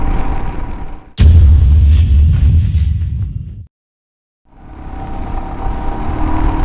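A Royal Enfield Himalayan motorcycle in third gear roars loudly as the throttle opens. The engine note drops out abruptly into a short silence, then returns to a steady drone.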